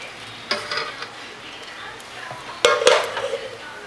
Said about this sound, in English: stir that up a little just to get the clumps out